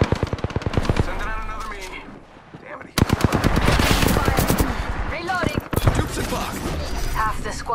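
Apex Legends gunfire comes in rapid automatic bursts, loud and continuous with a short lull partway through, and voices talk over it.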